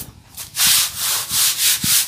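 A cleaning product is scrubbed across grimy non-slip floor tiles in steady, loud back-and-forth strokes, about four rubbing passes with no talk.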